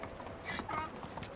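Horse hooves clip-clop at a gallop in the medieval survival game Medieval Dynasty, a steady rhythmic thudding close by with a brief whinny-like tone over it.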